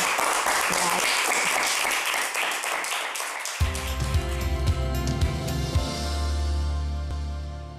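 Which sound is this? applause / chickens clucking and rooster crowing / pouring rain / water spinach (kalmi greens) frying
applause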